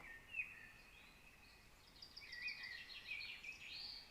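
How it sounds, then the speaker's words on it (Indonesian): Faint high bird song and chirping trills drift in from a distance over a quiet, steady background hiss. "betul, suara burung"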